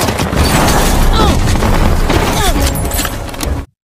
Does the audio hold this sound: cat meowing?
no